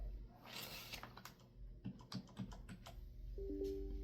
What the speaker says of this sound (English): Press escape on your keyboard.